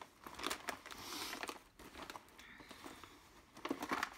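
A plastic shopping bag from a drugstore haul crinkles and rustles close up in short uneven bursts, with light handling noises between.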